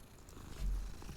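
A cat purrs softly and steadily as it is petted in Hogwarts Legacy, a low continuous rumble swelling a little midway with no voices over it.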